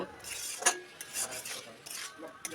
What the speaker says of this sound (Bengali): শেষে একটু চালের গুঁড়ো দিয়ে নেড়েচেড়ে মিশিয়ে নেব।